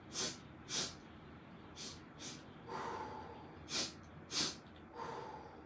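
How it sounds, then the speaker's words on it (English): Someone does quick, energetic breathing exercises, with sharp double sniffs in through the nose and airy breaths out through the mouth, repeated in close, fairly quiet bursts with no talking. "in for 2 quickly through the nose, and then 1 out through the mouth"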